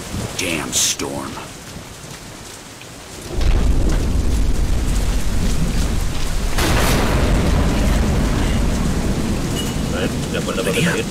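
Steady heavy rain from a thunderstorm in the video game Deadlight, faint at first, then swelling into a loud, dense downpour with rumbling thunder that stays heavy to the end, with a voice briefly heard under it.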